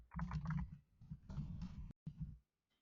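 Quiet clusters of keystrokes on a computer keyboard come in short irregular bursts with small pauses between them and end in a couple of isolated clicks.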